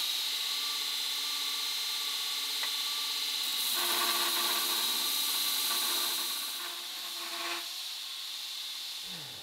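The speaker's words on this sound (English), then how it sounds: "I'm going to grind these edges smooth" A grinder works the edges of a copper, nickel and brass mokume gane billet, making a steady high-pitched whine with a harsher abrasive rasp in the middle, near and continuous.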